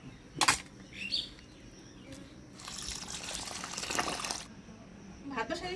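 Shrimp being washed by hand in water in a village kitchen, with intermittent splashing and a sustained trickling, sloshing stretch, fairly quiet and close, with no talk.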